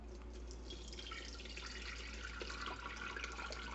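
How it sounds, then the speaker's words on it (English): Ricotta mixture poured into a strainer as the whey drains into a container beneath, a continuous close splashing trickle of liquid, heard alone without speech. "pour our mixture into the strainer with something underneath to catch the whey"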